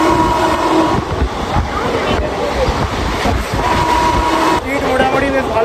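A moving train near Liluah station in Kolkata, a loud continuous rumble with rhythmic wheel clatter and a sustained horn-like tone, heard from onboard with a voice talking over it.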